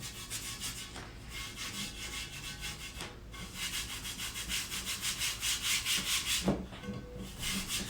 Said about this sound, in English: when we put it on, we just rub it down